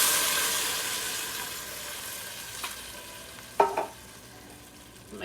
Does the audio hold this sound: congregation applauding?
no